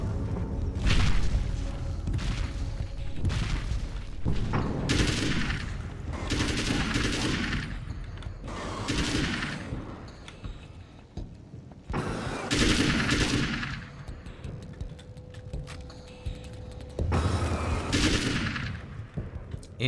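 Gunfire from a weapon in Alan Wake's American Nightmare: loud, close bursts of rapid shots in several separate volleys, each followed by booming impacts and short pauses.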